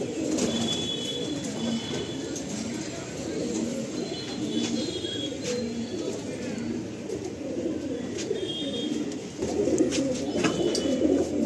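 Pigeons cooing among a large flock kept by a pigeon fancier, a continuous low, rolling murmur of many birds close by, with occasional brighter calls and a voice talking over it.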